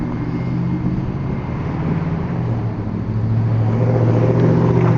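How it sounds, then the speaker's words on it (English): A car drives close behind someone at a roadside waiting for a car parade, its engine a steady, loud rumble that swells slightly toward the end. "I hear a car behind me."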